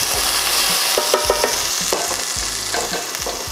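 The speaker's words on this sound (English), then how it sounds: "Move your potato around." Potatoes are pushed around in a hot frying pan, a loud constant sizzle with quick spatula scrapes and clinks layered on top, with no voices.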